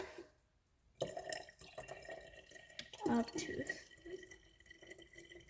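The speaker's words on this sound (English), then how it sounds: "Now, I shall put in some water" Water pours steadily into a container while a homemade lava lamp is being made, a soft continuous splashing after a near-silent start, with a person briefly speaking over it.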